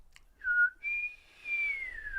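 A person whistles a short tune, a clear solo melody of a few sustained, wavering notes with brief gaps between phrases, close up in a quiet room.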